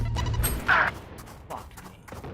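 A grenade blast in a tactical shooter game, a sharp crash burst amid scattered gunfire-like pops and smaller impacts, loud and close.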